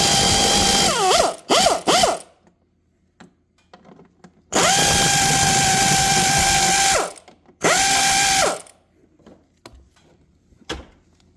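Power tool whirs in loud, close bursts while removing bolts on a 2004 Ford Expedition's engine cover, with a short stuttering pulse, then two longer sustained runs, separated by quiet clicks and handling noises.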